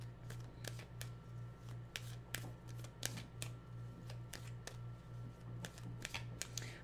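Tarot cards are shuffled by hand in a quiet room: a string of crisp, evenly spaced flicks and snaps over a faint, steady low hum.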